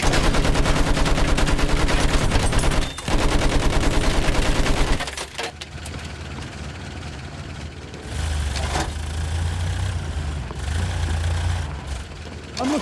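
Gunfire in Battlefield 1, with dense rapid automatic shots for several seconds, then a vehicle engine idling and rumbling with a few scattered isolated shots.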